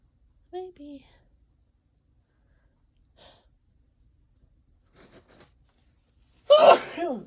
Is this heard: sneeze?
yes